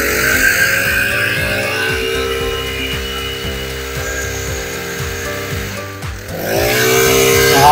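A used Honda lawn mower engine revs hard and close, a loud buzzing drone that dips briefly near the end before surging back up.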